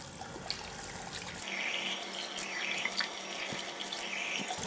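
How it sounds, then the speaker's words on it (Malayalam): A tap runs water for washing the face, starting as a faint trickle and then opening into a steady, close splashing stream into a sink, with no talk. "വാം വാട്ടർ കൊണ്ട് ക്ലീൻ ചെയ്യുന്നതാണ് കേട്ടോ നല്ലത്"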